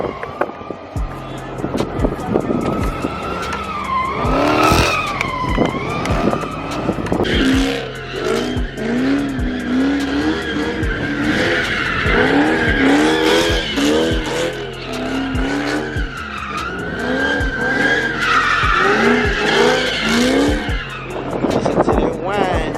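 A car slides repeatedly with long, wavering tire squeals and engine revs that come in bursts. The runs are loud and fairly close, with voices talking over them.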